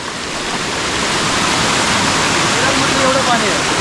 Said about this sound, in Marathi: हे झरवणीचं पाणी आहे म्हणजे वरती झरा उपटलाय आणि त्याचं हे पाणी आहे